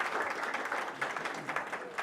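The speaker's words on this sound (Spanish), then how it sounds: "Un aplauso para ustedes porque hoy están acá, hicieron ese esfuerzo." Course attendees in a vaccination training session give a short round of applause, a dense, moderately quiet patter of many hands that stays steady with slight swells, without speech over it.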